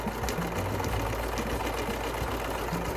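A sewing machine stitching the edges of a fabric pillowcase for a crafted spell pillow, running at a steady, continuous hum with a fast mechanical rattle throughout, no voices.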